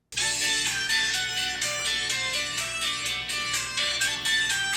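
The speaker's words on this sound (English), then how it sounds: "for years, I had it as a ringtone" A phone ringtone plays My Little Pony music, a bright, repeating tuneful pattern in regular pulses that is clear and fairly close, with no talking.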